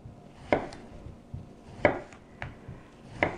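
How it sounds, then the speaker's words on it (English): A knife slices fresh zucchini into quarter-inch pieces on a cutting board, giving four or five crisp, evenly spaced chops at close range with no talk over them. "To make zucchini chips, all I do is cut them into quarter inch pieces, which is about 3 millimeters, and just slice them up"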